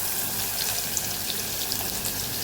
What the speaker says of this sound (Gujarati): હવે આપણે આમાં ડુંગળી ઉમેરી દઈશું